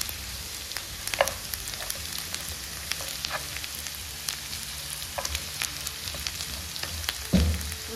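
Onions fry in a pan with a steady, close sizzle, broken by occasional clicks of stirring and a louder clatter near the end, with no voices.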